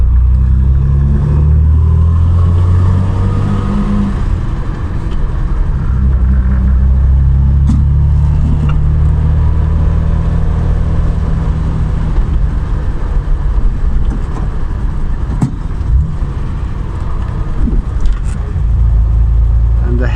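A 1967 Triumph Vitesse 2 litre driving along a road, its engine a steady low rumble with wind and road noise from inside the car, and a voice talking over it.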